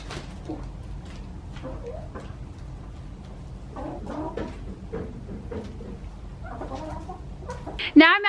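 Chickens clucking near at hand, with a run of scattered short clucks and chatter over low background noise, ending in a sharper, louder squawk.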